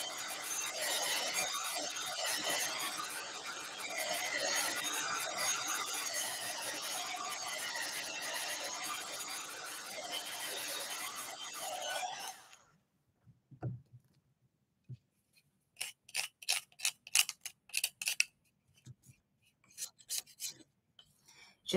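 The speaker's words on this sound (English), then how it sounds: "I want to make sure that it's really dry before I start using the sander to sand it" A sander works over a thin wooden angel-wings craft piece with delicate spindles, giving a steady close rasping drone for about twelve seconds before stopping, followed by scattered quiet clicks and light handling noises.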